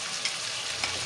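Chicken with salt and turmeric stirred in a pan, a brief steady sizzle marked by two soft scrapes of the spoon, fairly quiet and close.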